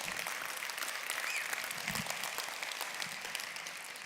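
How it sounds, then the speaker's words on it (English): A convention audience claps continuously, a broad wash of many hands at a steady volume filling the hall, with a faint whistle-like tone briefly rising above the clapping. "You can clap all you want."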